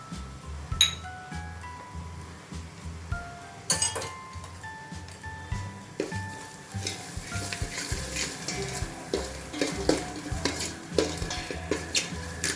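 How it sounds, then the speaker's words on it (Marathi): Spice masala with coriander powder and ground paste sautés in a pan for shev bhaji, a soft continuous sizzle under rhythmic, repeated spoon scrapes and clinks against the pan. "आता हे खूप छान परतून घ्यायचा आहे मसाला आपल्याला"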